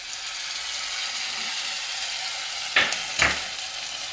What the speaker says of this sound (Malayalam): നാളികേരക്കൊത്ത് വറുത്തു